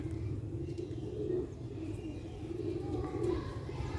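Pigeons coo in low, throaty, repeated rolls, several birds overlapping steadily against a soft background murmur.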